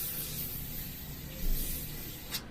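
An airbrush sprays thinned brown paint in a faint, steady hiss that runs on through the short stretch, with a soft bump partway.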